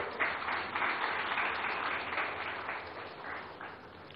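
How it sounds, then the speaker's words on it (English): Applause from the audience at an awards ceremony in Odisha for a four-time Chief Minister, a moderate, somewhat distant round of clapping that eases off toward the end. "Please give him a warm round of applause."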